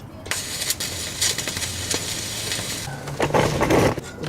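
Stick welding a bolt onto an exhaust manifold flange of a Geo Metro: crackling, sizzling arc noise with irregular pops and bursts, close and fairly loud, alone without talk.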